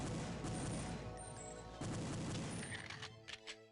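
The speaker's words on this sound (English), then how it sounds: "There's another turret on our left here that will instantly start shooting us" Turret gunfire in the shooter Perfect Dark, a dense, loud burst of rapid shots and booms that gradually thins out into a few scattered final pops.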